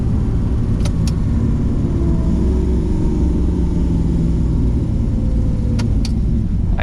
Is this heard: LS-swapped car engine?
yes